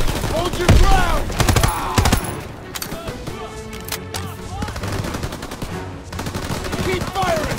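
Continuous rattling gunfire in a World War 2 Call of Duty battle in Aachen, Germany, loud overlapping rifle and machine-gun bursts with battlefield clamor running throughout.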